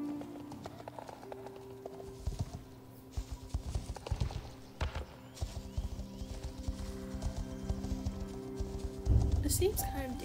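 Horse hooves clip-clop over a brushy trail littered with twigs and stumps, an uneven run of close, moderately loud steps, with people talking throughout and a louder burst near the end.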